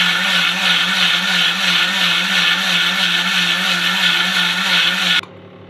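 Mixer grinder blending poppy seed paste with water, a loud, steady whirring motor hum that runs continuously for about five seconds, then cuts off abruptly, leaving a quiet tail.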